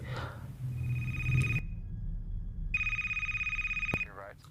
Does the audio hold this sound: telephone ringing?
yes